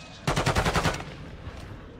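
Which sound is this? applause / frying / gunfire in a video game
gunfire in a video game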